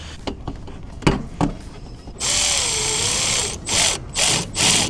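An intake pipe mounting bolt is loosened on a 2022+ Subaru WRX, starting with a few sharp ratchet clicks, then a loud, sustained power-tool whir followed by three shorter bursts, close by with no talking.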